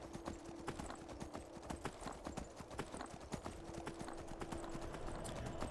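A horse in the Skyrim video game gallops, its hooves clip-clopping in quick, rapid, regular beats that stay close and loud throughout, with a faint steady tone behind them.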